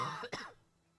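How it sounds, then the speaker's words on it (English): A single quiet cough from an irritated throat, a short harsh burst that fades quickly into near silence. "my throat would be easily irritated and I'd cough a bunch"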